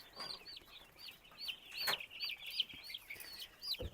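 Small broiler chicks cluck and peep in a quick, busy series, fairly close, with a brief rustle partway through and no talking.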